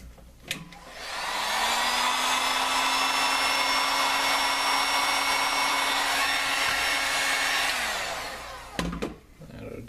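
A heat gun blows steadily for about seven seconds, shrinking heat shrink tubing over wire while building a dual-18650 box mod, with a constant airy whoosh and hum, clicks of the switch at start and end, close and fairly loud.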